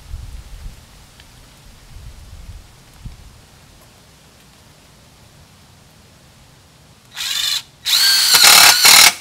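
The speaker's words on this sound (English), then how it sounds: "I'm going to use a hammer drill to put these" Quiet low rumble, then two loud harsh bursts of a hammer drill near the end, close and intense with a short pause between them, while refurbishing patio furniture.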